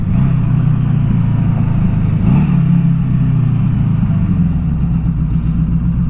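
A 1982 Suzuki GS750T inline-four motorcycle engine runs steadily and loud throughout, a low thrumming drone with a brief rev swell midway and no talk.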